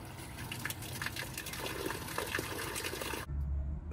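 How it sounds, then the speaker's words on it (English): Water flushed through the radiator of a Ford 460 RV motorhome engine pours out into a drain pan, a steady splashing gush that stops abruptly near the end, close and fairly quiet. "we're just gonna fill this up with water until it starts running out"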